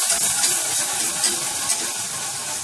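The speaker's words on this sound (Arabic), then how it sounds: "هبتدي انزل بالسوائل بتاعتي، معايا كوباية اللبن" Milk is poured into a hot roux for béchamel sauce, producing a steady, loud bubbling sizzle and hiss that continues without break and without speech.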